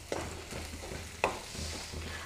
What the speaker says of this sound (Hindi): तो प्याज भुन गया है, अब हम इसमें हींग डाल देंगे।